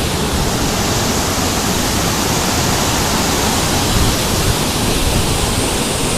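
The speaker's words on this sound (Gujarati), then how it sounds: "ભાવનગરની જીવાદોરી સમાન શેત્રુંજી નદી છે એ ફૂલ ઓવરફ્લો થઈ રહી છે" The overflowing Shetrunji river rushes beneath a large road bridge near Bhavnagar, a loud, continuous broadband roar of floodwater that stays steady throughout, with no voices.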